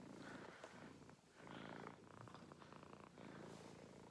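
A six-month-old barn kitten purrs softly and steadily up close, a low continuous rumble that swells and dips with each breath, with no voices.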